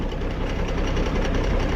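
A tractor engine, an Allis-Chalmers fitted with a hydraulic cylinder for a bush hog, runs steadily nearby with a continuous low, knocking mechanical drone that holds an even loudness throughout.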